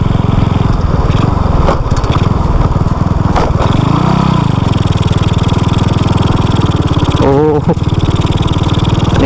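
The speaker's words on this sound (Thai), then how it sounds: "ไปขี่รถเล่นชิวๆ" A customized pink Honda Dream motorcycle is ridden past rice fields, its engine droning steadily and loudly with wind noise, and a voice is heard briefly.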